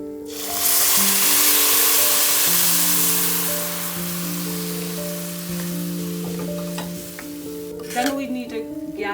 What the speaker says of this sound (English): then I'm going to add the milk